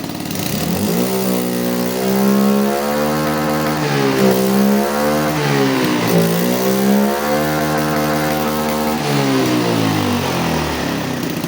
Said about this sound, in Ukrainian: Моторчик працює добре